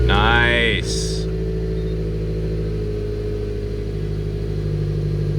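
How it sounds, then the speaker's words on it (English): A 2007 Subaru STI engine with freshly installed spark plugs settles into a steady, even idle after a short burst at startup, with a low constant hum close by. "That was a nice solid idle for disconnecting the battery and placing all 4 spark plugs."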